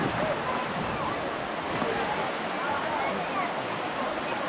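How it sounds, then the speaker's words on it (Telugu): Thatiguda waterfall at Araku, a steady broadband roar of falling water rushing continuously and fairly close throughout, with no pauses. "వాటర్ ఫాల్ అంతా బాగుంది"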